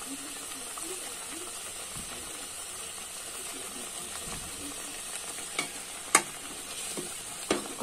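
Turmeric, coriander powder and red chili powder fry with stuffed brinjal in a pan for a pickle-style dish, a steady sizzle under scraping stirring strokes and a few sharp clinks of a spoon against the pan near the end.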